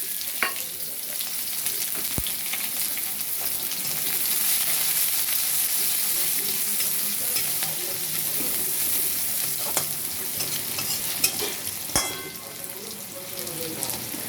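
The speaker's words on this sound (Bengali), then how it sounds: "পেঁয়াজটা ভাজা ভাজা হতে থাক" Diced onion and cumin seeds fry in hot oil in a wok, a steady close sizzle with a few sharp clicks and scrapes of stirring, with no talking.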